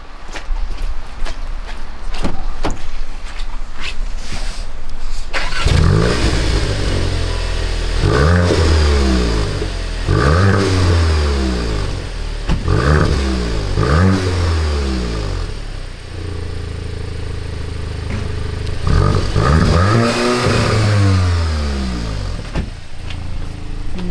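A Volkswagen Golf 8 GTI engine cranks and catches, then revs up in several sharp bursts with short idle gaps between, loud and close, no talking.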